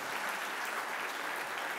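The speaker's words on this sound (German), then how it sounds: "Vielen herzlichen Dank für diesen herzlichen Beifall" Dense, even applause fills an event hall at an awards ceremony, a steady wash of clapping from a large audience with no talking.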